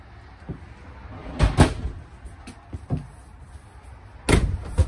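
A storage cabinet door under the bathroom vanity of a 2021 Flagstaff Shamrock 19 RV, opened and shut several times in quick, close, hollow thumps and knocks, with no voices.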